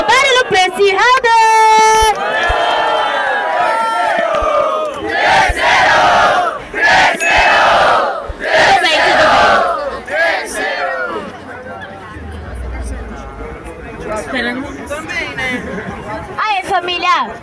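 Crowd at a rap battle (Batalha) shouting and cheering in loud surging waves after a single voice at the start, with the roar easing to a lower murmur toward the end.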